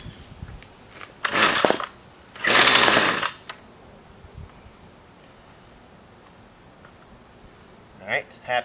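A Husqvarna string trimmer engine is pull-started: two loud rasping bursts from the recoil starter roughly a second long each, a long quiet gap, then short sputtering pulls near the end, recorded close up.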